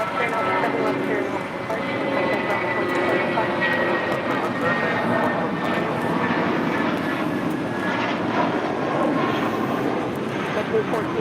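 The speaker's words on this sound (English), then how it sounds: "This is JetBlue Airways, flight 1463, taking off, no, not to New York, Los Cabos, an A320" JetBlue Airways Airbus A320, flight 1463 to Los Cabos, taking off at LAX, a broad loud jet roar holding steady throughout while a voice talks over it.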